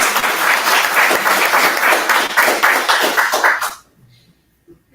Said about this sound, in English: let's really give a thunderous round of applause and thanks to our moderator